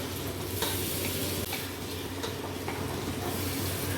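Onion and tomato masala for mushroom biryani frying in a pan, a dense continuous sizzle with soft stirring scrapes now and then, close and steady, with no voices.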